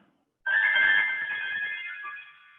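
A mobile phone ringtone sounds abruptly out of silence, a steady bright electronic tone held for about two seconds, fairly loud and close, then fading out.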